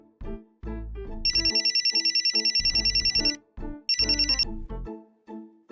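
A telephone rings in two bursts of rapid, repeated electronic trills, with people talking in the gaps between and around the rings.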